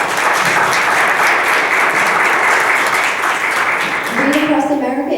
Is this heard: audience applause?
yes